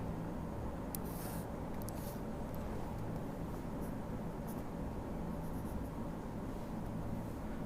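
A pencil draws a ray across paper for a geometric construction in a class 10 maths lesson: a faint, continuous scratchy stroke with a few brief sharper scrapes over a steady background hum.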